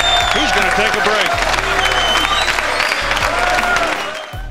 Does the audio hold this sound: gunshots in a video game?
no